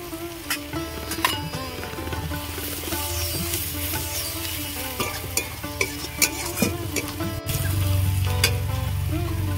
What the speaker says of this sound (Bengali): এবার আমি লঙ্কার গুঁড়ো দেবো তেলের মধ্যে।